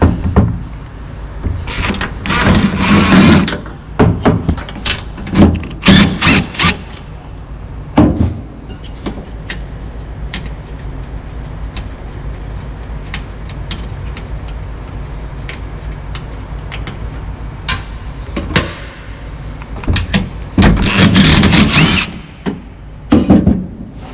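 Ratchet or power tool working 8mm bolts on the tailgate latch unit of a 2015 Dodge Ram EcoDiesel, loud bursts of clicking and rattling metal in clusters separated by quieter pauses.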